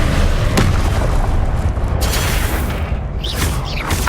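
Confringo fire-blast spell going off in the Hogwarts Legacy video game, a loud, sustained booming roar with sharper crackling bursts layered through it.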